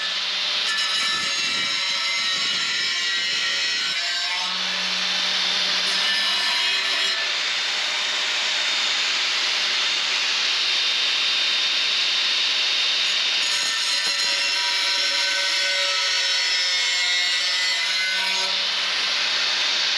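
A loud, continuous high-pitched whine of a drill boring holes in a car's rear spoiler, steady for the whole stretch with occasional shifts in pitch.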